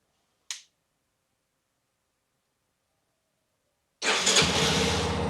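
A Yamaha XG250 Tricker motorcycle engine cranks and catches, then runs with a steady, rough mid-range rumble close by, after a single sharp click and a long silence.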